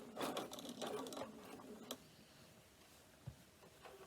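A sewing machine stitching a pocket on a cork messenger bag, a faint quick run of rattling stitches that stops after a couple of seconds, leaving quiet room noise and a soft knock.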